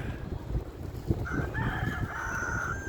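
A rooster crows over a background of clucking fowl and a busy, noisy farmyard.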